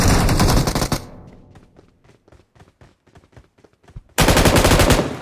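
Bursts of rapid automatic machine-gun fire in the mobile shooter BGMI: loud sustained volleys at the start and end, with quicker, fainter rhythmic shots in between.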